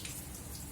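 Water splashing steadily onto flowers and soil during garden watering, a short continuous close patter and trickle.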